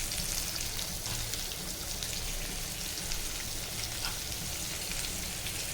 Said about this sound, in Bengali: দিয়ে একটু জোরে দিয়ে পেঁয়াজটাকে একটু ভেজে নেব।